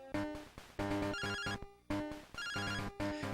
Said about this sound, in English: we get a phone call from Professor Elm, of course.